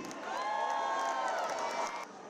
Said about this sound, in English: Let's get a round of applause for Philly!